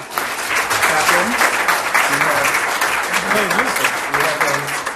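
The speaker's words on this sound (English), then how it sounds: "So let me ask for another round of applause." An audience at an academic lecture on organ transplant ethics breaks into steady, loud applause, the dense clapping sustained throughout with a few voices underneath.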